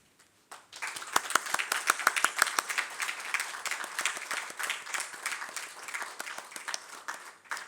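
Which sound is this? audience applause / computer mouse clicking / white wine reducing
audience applause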